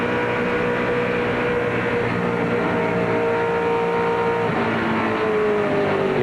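Dense, steady roar of NASCAR stock car engines heard from inside Dale Jr.'s car during a 2003 Aaron's 499 race, with a sustained engine drone and pitch shifting slightly near the end, loud and without talk.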